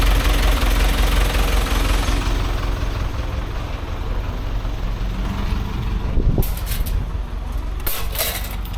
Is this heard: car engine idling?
yes